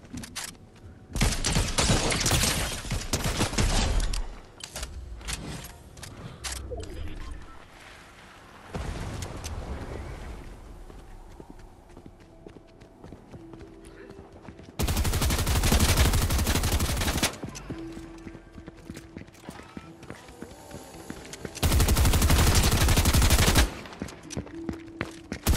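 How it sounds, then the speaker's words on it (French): Bursts of automatic gunfire from old-style weapons in Fortnite Season 4, several loud sustained volleys separated by quieter stretches of game ambience. "Alors j'ai vu que c'est tiré par là"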